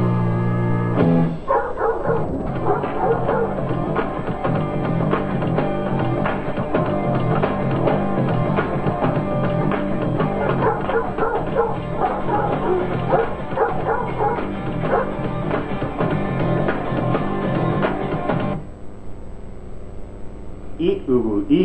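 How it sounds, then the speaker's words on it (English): A dog barks and yips repeatedly and loudly, with whimpers mixed in, over a dense continuous background that fades near the end. "Stupid dog."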